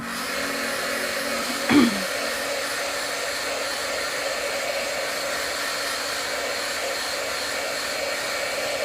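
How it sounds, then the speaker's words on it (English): Heat gun drying vinyl on a tumbler: a continuous close blowing hum runs steadily throughout, with one brief click near the start. "where's my heat gun? You can just dry it and immediately go to step 2."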